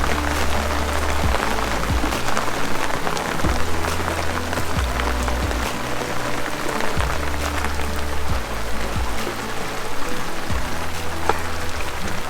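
Steady rain pours onto a boat anchored in the Bahamas, a dense continuous patter and hiss with occasional louder drops and low thuds on the hull and deck throughout.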